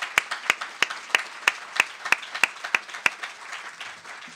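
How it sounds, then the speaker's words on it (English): An audience applauds a panel at a discussion on Massachusetts immigration restrictions, heard as sharp, evenly spaced claps roughly three per second over a soft bed of scattered clapping that fades near the end. "So once again, a round of applause for the panel."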